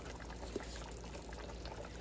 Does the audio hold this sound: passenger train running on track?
no